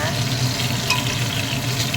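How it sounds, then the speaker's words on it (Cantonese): Lamb pieces sizzle and fry steadily in a pan for angelica and ginger lamb soup, a close, continuous crackle with light stirring and no voices. "先煎一煎佢先，羊肉煎咗你先"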